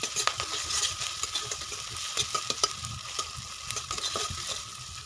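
Onions frying in a pan with salt and ground ginger and garlic paste, a continuous sizzle broken by frequent clicking stirs of a utensil against the pan, close and moderately loud with no talking.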